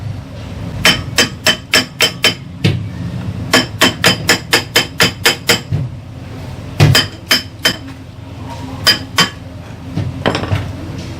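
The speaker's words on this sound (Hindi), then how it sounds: "अब हम हल्का हल्का चोट देके इस कवर को निकालेंगे" A hammer taps the cover off a deep well motor during bearing replacement, producing sharp metallic clinks in quick clusters of several raps separated by short pauses, close and clear over faint background noise.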